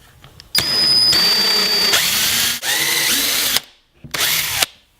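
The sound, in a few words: drilling holes with countersink drill bit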